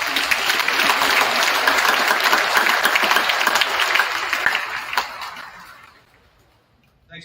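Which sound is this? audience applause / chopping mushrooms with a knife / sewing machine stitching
audience applause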